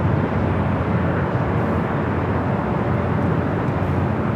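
An airliner in Goofy livery taxis at LAX, its engines giving a loud, steady jet roar that holds unbroken and close throughout, with no voices over it.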